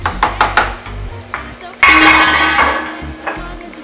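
Fish and shrimp with their gravy are added to a biryani pot, making clinks and scrapes of a utensil against the pot. A louder wet clatter and slosh follow as the food goes in.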